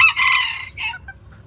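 A Serama bantam rooster, a tiny Malaysian breed, crows once close by in a single bright, strained call, followed by a few short clucks from the small hens as it fades.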